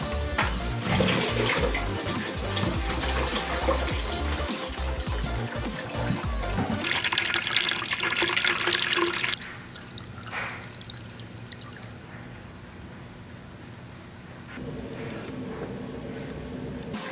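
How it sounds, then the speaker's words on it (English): Water pours steadily and heavily through a vivarium filter, splashing and gurgling, then eases to a quieter trickle and dribble before the flow picks up slightly again. "it's time to add in the water, which I prefer to do just directly through the filter"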